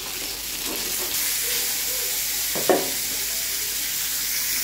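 Rupchanda (pomfret) fish frying in hot oil in a pan, a loud, continuous sizzle with a brief utensil clatter partway through.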